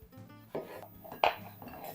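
Small diced potato pieces tipped off a board into a plate for pea soup, a couple of soft clattering knocks of chunks and dishware, one sharper clink near the end, close and moderately quiet with no talking.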